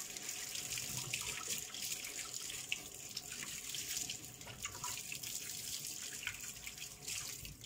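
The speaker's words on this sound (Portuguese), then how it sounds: "Passar por água primeiro" Tap water runs steadily into a kitchen sink while fresh coriander is rinsed under it, a continuous close splashing flow with no voices.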